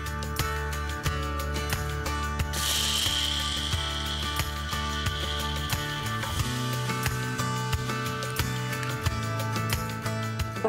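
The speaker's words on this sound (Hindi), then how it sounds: "अब थोड़ा सा नमक डाल करके हम इसे एक महीन से पेस्ट में पीस लेंगे" Garlic, ginger, black peppercorns and salt ground into a fine paste, likely on a stone grinding slab, giving a steady run of scraping, grating strokes with repeated knocks, close and fairly loud, with no talk.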